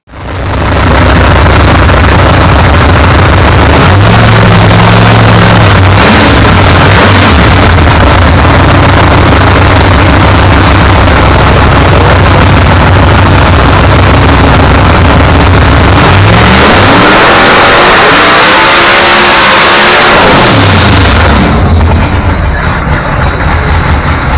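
A roughly 3,000-horsepower Pro Mod drag car engine roars on a dyno, a sustained, very loud, close blast with rising and falling revs and a sweeping pitch change late in the pull before it abruptly drops off.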